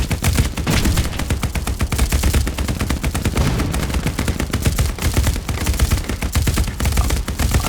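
Dense, loud gunfire from the WW2 shooter game Hell Let Loose, rapid bursts of rifle and machine-gun shots cracking almost continuously with no pause, close by and sustained for the whole stretch, no voices.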